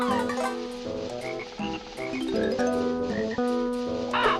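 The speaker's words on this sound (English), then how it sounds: "But what about the frogs?" Frogs croak within the music of the Banjo-Kazooie video game, low repeated croaks woven through a layered, tuneful melody that plays continuously without any talking.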